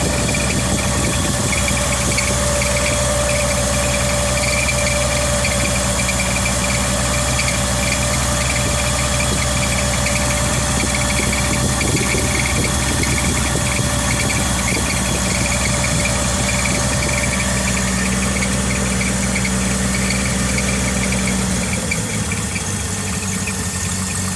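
Car engine idling steadily with its choke opened, a continuous mid-pitched hum with a faint squeal running throughout, alone and without talk, cutting off near the end.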